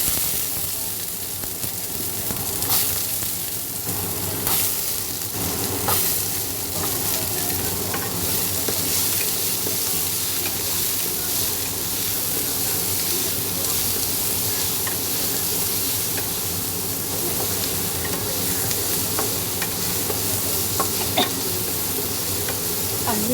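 Garlic frying in hot cooking oil, a steady close sizzle and crackle with occasional stirring scrapes, nearly uninterrupted for the whole stretch.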